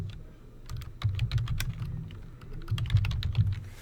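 A Gmail label name typed on a computer keyboard: a quick, uneven run of close, crisp key taps with a short pause partway through, over a soft background.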